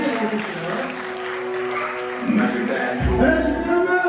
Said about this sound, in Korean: 우리 선배님 나오실 때 우리 힘찬 박수와 함께 선배님 오셔보도록 하겠습니다